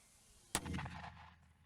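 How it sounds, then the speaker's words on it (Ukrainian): A single sharp mortar shot booms once, then its heavy rumble rolls away and fades over a second, with quiet outdoor background before it. "Міномет! Постріл!"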